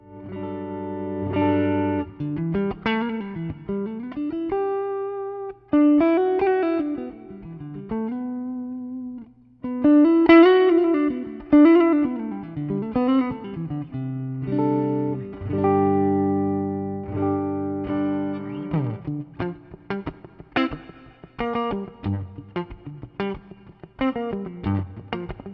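Electric guitar through a volume pedal into a Fender Pro Reverb amp, notes swelling in and out and fading up smoothly with a chorused, slightly driven tone, later turning to choppier plucked phrases.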